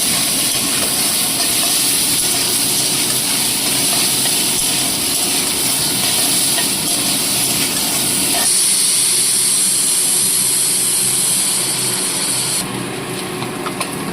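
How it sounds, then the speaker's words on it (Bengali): Boiled, squeezed soybean chunks fry in hot oil seasoned with salt and turmeric, giving a steady sizzling hiss that runs throughout and drops in loudness partway through. "এবার সেদ্ধ করে ভালো করে ধুয়ে জল চিপে নেওয়া সয়াবিন একটু ভাজতে আমি ভেজে নেব"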